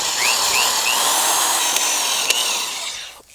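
A power drill drives 3-inch screws into wood while framing tiny house floor joists: a loud, continuous high-pitched whine with slight pitch swells and a couple of sharp ticks, easing off at the end.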